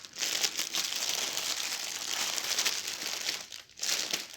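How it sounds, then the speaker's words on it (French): Paper crinkles and rustles close up in continuous handling, with a brief pause near the end before the crumpling resumes. "Désolée pour les bruits de papier."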